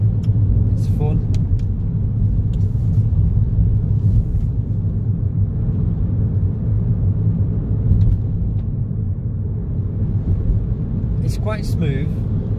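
A 2020 Peugeot 208 Allure Premium PureTech turbo engine pulling while driving, a steady loud low rumble of engine and road noise inside the car, with brief chirps above it.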